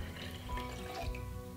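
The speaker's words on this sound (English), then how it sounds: "just pour that right into the mason jar" Warm water pours into a quart mason jar in a short, steady trickling stream, faint and close, with no talking.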